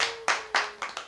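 Players at a game night clapping for themselves, about five sharp, close hand claps in an uneven rhythm with short gaps between them and a faint steady hum underneath.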